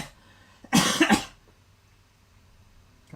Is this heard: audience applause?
no